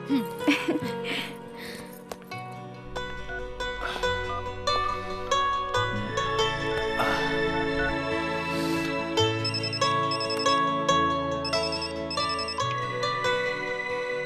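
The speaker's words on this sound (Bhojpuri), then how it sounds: "प्रिया तू हमार फोन काहे ना उठावत रहलू?" A mobile phone ringtone plays a looping electronic melody, loud and close, ringing continuously without a break.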